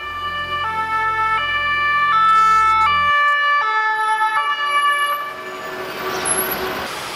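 Ambulance siren blaring loud and close, cycling through stepped two-tone wails with a low engine rumble beneath at first, then fading slightly as traffic noise rises.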